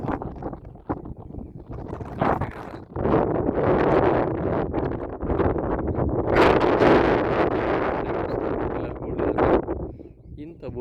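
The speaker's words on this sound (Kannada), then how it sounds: "ಗಾಳಿ ಇದೆ ಸ್ವಲ್ಪ." Wind gusts across open farmland near a highway, roaring and buffeting the microphone in loud swells while someone talks over it.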